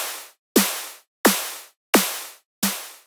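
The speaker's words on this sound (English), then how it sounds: "So we can change it to more of the traditional 808 sound" Synthesized 808-style snare with a pitch envelope, four sharp hits at an even pace, each a bright noisy crack with a short low drop that decays quickly into silence.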